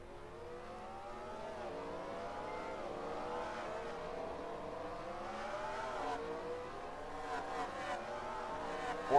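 A race car in a racing video game drops its revs coming into pit lane, the engine whine falling and rising in repeated gear-shift sweeps, steady and moderately loud with no talk.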